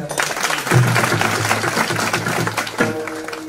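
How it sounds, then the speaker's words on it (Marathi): Applause breaks out from the audience at a Marathi kirtan for the lead singer, a steady, dense patter of many hands that lasts through the whole stretch, with a low musical hum underneath. "गायनाचार्यासाठी एकदा टाळ्या वाजवायच्या"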